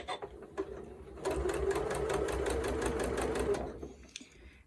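Sewing machine stitching a curved orange peel quilt block, running at a steady rapid chatter for about three seconds after a few soft handling noises, close and fairly quiet.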